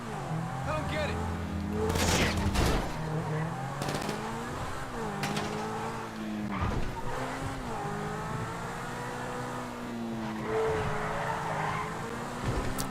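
A Cheetah supercar in GTA 5 Online drives with a steady engine drone and shifting revs, with brief louder bursts and skid-like swells, while a voice talks over it throughout.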